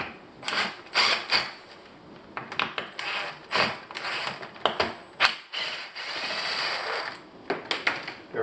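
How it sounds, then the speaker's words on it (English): A screwdriver works screws out of a Minn Kota trolling motor housing, giving repeated quick ratcheting clicks and short mechanical bursts in uneven clusters, close and moderately loud. "So you'll need to remove all the screws under."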